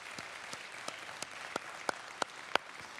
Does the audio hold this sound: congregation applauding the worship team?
yes